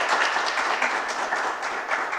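A round of applause from the audience at an education project dissemination event, steady dense clapping throughout at moderate loudness with no voices over it.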